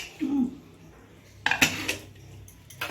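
A pressure cooker of cooked mutton for pulao is opened, giving a few short metallic clinks and clanks of the lid and pot, close and sharp against a quiet background.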